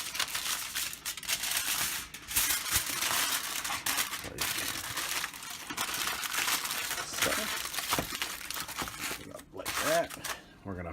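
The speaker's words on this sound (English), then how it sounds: "I'm gonna get a piece of foil and I'm gonna wrap it" Aluminum foil crinkles and crumples steadily as it is folded around a rack of ribs, the crisp rustling fairly close and continuous, with someone speaking over it.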